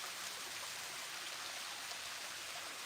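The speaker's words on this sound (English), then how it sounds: "A little waterfall behind me." A small outdoor waterfall produces a steady, even rush of splashing water that fills the background continuously at low level, with no voices over it.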